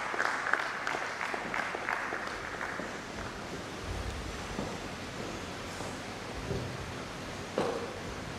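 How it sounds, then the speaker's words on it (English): Sustained applause from a conference audience at a university, a soft, distant, hissing spread of clapping that slowly thins out over several seconds. "Please sustain the applause till he gets here."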